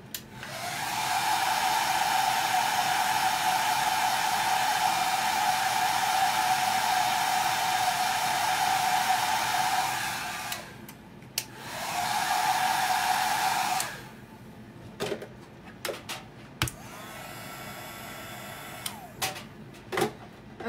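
A hair dryer dries chalk paste on a craft project, blowing a steady, loud whoosh for about ten seconds, then a shorter burst, followed by light clicks and handling noises.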